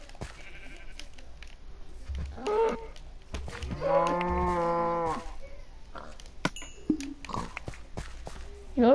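Cows mooing in the video game Minecraft: a long, loud, low moo in the middle, with a few shorter bleat-like animal calls and scattered clicks before and after, no talking.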